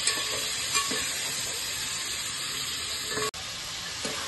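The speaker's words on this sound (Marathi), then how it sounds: "कोळंबी फ्राय केली म्हणजे त्याचा उग्र वास निघून जातो, त्याच्यामुळे कोळंबी फ्राय करायची" Prawns fry in a pan of hot oil with a steady, loud broadband sizzle, a few soft clinks of a spoon stirring, and a brief dropout near the end before the hiss resumes.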